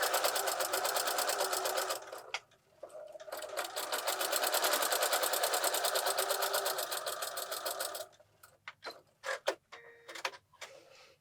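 A sewing machine fitted with a walking foot stitches through several layers of a quilt-as-you-go scrappy place mat, running in a fast steady mechanical patter for long stretches, pausing briefly, then ending in short stop-start bursts.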